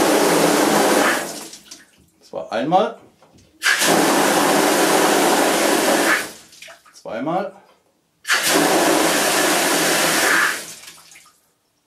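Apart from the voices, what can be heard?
water jet from backflushing a household water filter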